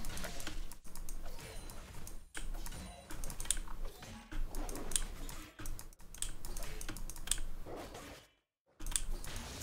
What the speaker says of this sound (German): Ich glaube, die ganzen Klicks-Sounds sind ganz schön nice im Livestream